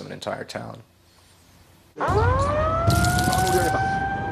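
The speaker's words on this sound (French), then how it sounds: "On traversait la ville, les sirènes hurlaient." Sirens wailing across a Japanese coastal town during the 2011 tsunami, a loud rising electronic wail that starts abruptly after brief speech and a quiet gap, then holds steady with a harsher tone layered in.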